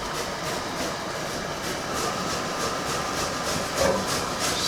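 Garlic in hot homemade hemp olive oil gives off a steady, close, broadband sizzle with a faint rhythmic crackle and no one speaking.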